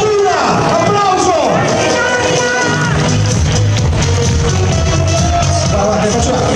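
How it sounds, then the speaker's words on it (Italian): Audience applause and cheering at a red carpet event, a dense wash of clapping that holds steady from start to finish while voices talk over it. "Applauso!"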